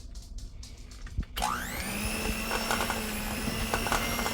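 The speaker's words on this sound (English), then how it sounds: "we're going to see what happens if I try to do this on low speed with my hand mixer" A hand mixer switches on partway through and runs on its low speed with a steady, close whirring whine, after a few quieter kitchen knocks and rustles at the start.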